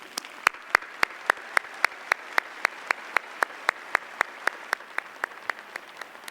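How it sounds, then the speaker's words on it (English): Slow, evenly spaced claps at a North Carolina A&T State University fall commencement, each sharp clap distinct in a steady rhythm, sounding like a few people clapping close by rather than a full crowd. "let's give them an incredible round of applause"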